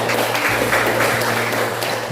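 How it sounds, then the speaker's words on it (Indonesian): Applause from a classroom of students for a classmate's answer, steady dense clapping for about two seconds with a low hum underneath. "tepuk tangan untuk jawaban temannya"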